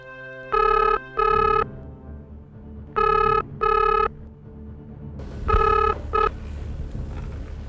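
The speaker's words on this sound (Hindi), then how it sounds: "मैं अभी फोन लगाता हूँ अमर को।" A telephone rings in paired electronic trills, two double rings with a pause between, then a third cut short as background noise rises.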